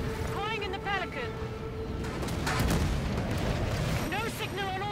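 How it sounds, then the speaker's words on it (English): Reactor explosion in the video game Halo 5: a sustained low rumbling roar swells and holds for several seconds, with chirping electronic tones above and dialogue running alongside. "Fast enough to get clear of the reactor explosion."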